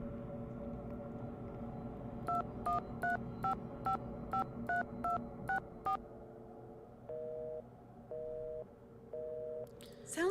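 A telephone call being placed: a quick run of about ten keypad dialing tones, then three evenly spaced busy-signal beeps, clear and alone over a low room hum.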